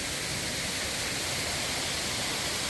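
Três Quedas waterfall in Serra das Andorinhas, São Geraldo do Araguaia, Brazil, roars as a steady, dense broadband rush of falling water, continuous and close, with no voices over it.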